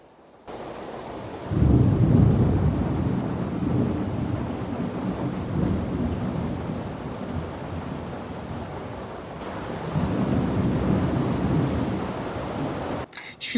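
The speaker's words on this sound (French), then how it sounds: "Mais par contre, l'orage, c'est quoi ça?" Heavy rain pours steadily while thunder rumbles and rolls in two long, deep swells, loud and close, under a constant wash of rainfall.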